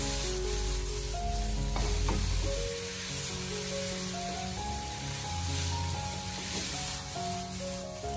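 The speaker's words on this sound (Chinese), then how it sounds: "紧接着再把处理过的西兰花放进锅中，立刻的调味大火，给它快速的翻炒一下，将它翻炒均匀，把它炒出香味。" Broccoli stir-fried over high heat in a wok, giving a steady, loud sizzle and frying hiss with scraping stir sounds, mixed with a sustained background tone throughout.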